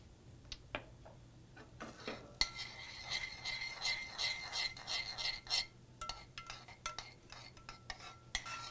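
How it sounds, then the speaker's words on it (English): A utensil stirs curried coconut lentils in a pot, producing irregular close scraping and clinking taps against the pot, quiet and uneven over a soft background hum, with no voices. "Stir for another minute or 2, and when it really starts to reduce and gets that nice creamy consistency, then you know you're done."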